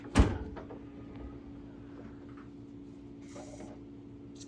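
A GE Cafe double drawer dishwasher drawer shuts with a single soft thump near the start, followed by a quiet steady hum and faint mechanical whirring indoors.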